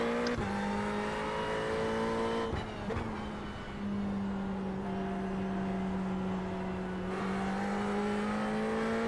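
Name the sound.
Ferrari 488 GT3 race car lapping Watkins Glen, racing game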